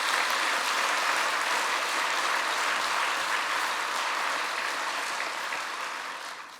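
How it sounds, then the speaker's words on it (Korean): A church congregation applauds steadily throughout a 50th-anniversary worship service, the clapping dense and sustained before gradually fading toward the end. "박수합시다."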